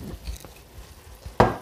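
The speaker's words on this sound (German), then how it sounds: "Und dann rühre ich das Ganze erst einmal um." A spoon stirs a thick enchilada sauce mixture in a pan with a few soft scraping scuffs, ending in a sharper clink against the pan.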